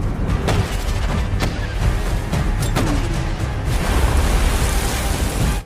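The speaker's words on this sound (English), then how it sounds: "Captain Krauss immediately ordered his crew to drop some anti-submarine bombs" Anti-submarine depth charges dropped by a destroyer on a German U-boat give a dense, rumbling roar with repeated heavy booms and surging water-like noise, loud and continuous throughout.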